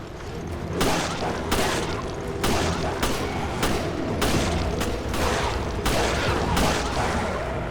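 Shotgun blasts from the video game Resident Evil: Revelations fire in a steady, evenly spaced series of about ten loud booming shots, each with a short rumbling tail, close and dominant.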